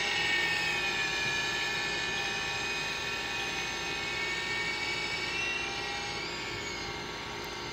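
An Extreme S-8G model helicopter on a test flight in gusty wind, its rotor and motor giving a steady high-pitched whine and hum that fades slightly at the end, moderately distant with no talk.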